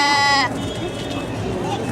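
A spotted black Appaloosa sheep at Otavalo's outdoor animal market lets out a single loud, close bleat that cuts off abruptly, followed by crowd murmur and general market noise.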